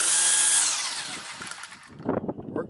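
A Ryobi RY40250 40V string trimmer whines loudly at speed, then winds down and is followed by a few quick knocking bumps as its bump feed is tested.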